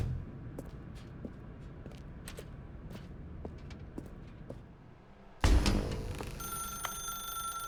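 A telephone in The Stanley Parable begins ringing suddenly after quiet ambient creaks and ticks, a loud, bright bell ring that continues steadily to the end.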